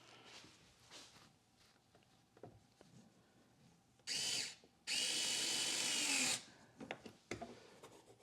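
A power driver drives screws into a cheap 3D-printed universal enclosure, two short whirring bursts close by, the second longer and steady, surrounded by quiet handling clicks and rustles.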